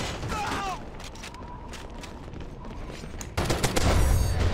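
Automatic hip-fire gunfire in a first-person shooter video game, steady rapid shots with a heavier, louder burst near the end, while a player talks over it.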